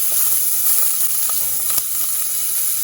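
Hot oil sizzles and crackles steadily with bright hissing and small pops as green chillies and onions fry with asafoetida in a pan close by.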